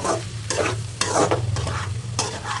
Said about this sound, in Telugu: ఇలాగైతే మధ్యలో కలుపుతాం దాదాపు ఒక 10 నిమిషాలు